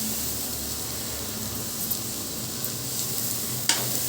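Chopped ripe tomato frying with ginger and onion in a hot pan for a Mutton Thonjal Kulambu, giving a steady close sizzle with faint stirring scrapes and one brief clink near the end, no talking.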